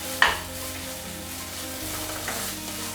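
Spices fry in a little oil for a fish curry with bottle gourd shoots and potato. A steady sizzle follows a sharp clink at the start, and a low hum runs underneath.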